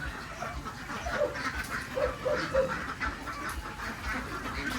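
Several ducks quack in short bursts at moderate distance by a creek on a provincial Philippine farm, over a steady murmur of outdoor background noise.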